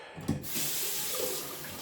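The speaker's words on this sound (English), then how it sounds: "Rinse the brush because I'm gonna need more hot water pretty soon." A shaving brush is rinsed under a running bathroom tap during a wet shave, the water pouring in a loud, steady close-up stream after a brief splashy start.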